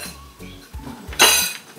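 Ceramic plates and dishes clink and clatter during a family meal, a few sharp knocks followed by a brighter scraping rattle, close by with brief talk around it.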